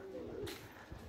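Pigeons coo softly in a short burst, low and murmuring beneath a steady background hum, with faint voices nearby.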